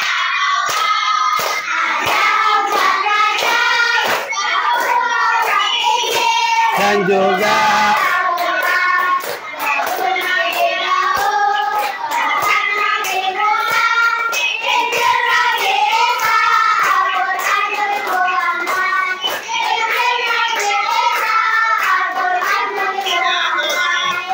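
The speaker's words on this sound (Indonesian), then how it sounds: "tepuk tangan buat kalian semuanya" Children in a classroom clap their hands in rapid, loud, continuous rhythm while singing together, with a brief pause partway through before the clapping and singing resume.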